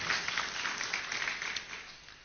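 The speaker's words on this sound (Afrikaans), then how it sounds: "Kom gee vir hulle sommer 'n lekker hande klap" Church congregation giving a round of applause, a steady wash of hand claps that stays fairly even and moderately distant throughout.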